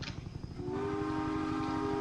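Train in a video game, a rumbling rolling approach followed by a long sustained horn tone that holds steady and loud to the end.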